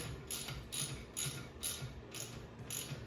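A ratchet wrench tightening the handlebar bolts on a 50cc Chinese ATV, five evenly spaced bursts of rapid clicking ratchet pawl, close and alone with no talk.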